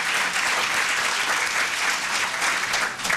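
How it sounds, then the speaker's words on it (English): A conference audience at a STEM event applauds its panel with dense, steady clapping from many hands, close and even, with no voices over it. "let's give a big round of applause and thanks to our panel"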